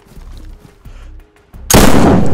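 Gunfire in the survival game DayZ during a base raid: low muffled movement sounds, then a sudden loud, dense burst of shots that carries on through the end.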